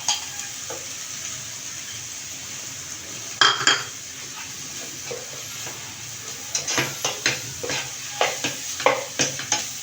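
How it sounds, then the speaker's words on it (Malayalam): Carrots drop into a pan of paneer and vegetable pulao and get stirred, a soft hiss and sizzle broken by a clatter, then a run of quick, rhythmic spoon scrapes against the metal pan. "ഇനി ക്യാരറ്റ് ഇടാം"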